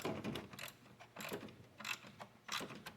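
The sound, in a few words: threading a bolt in by hand, alternator replacement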